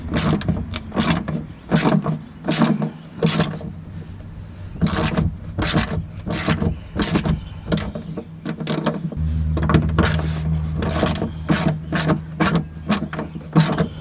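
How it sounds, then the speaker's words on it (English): Repeated ratcheting clicks of a wrench working a nut loose on a 2013 Ford Fusion 2.5 during fuel pump replacement, in short bursts with pauses, close up, with a low mechanical hum partway through. "I'll start by removing the 10mm Torx. This first nut here."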